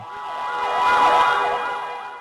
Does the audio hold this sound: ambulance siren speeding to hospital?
yes